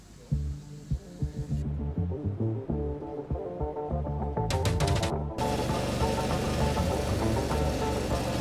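Suzuki V-Strom motorcycle on a trip in Albania, engine idling with an uneven thumping pulse, then revving and pulling away into a steady louder drone.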